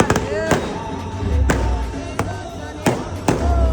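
Firecrackers burst at a nighttime wedding celebration with dandiya raas in Dhoraji, a string of about seven sharp, loud cracks at irregular intervals over a continuous crowd din.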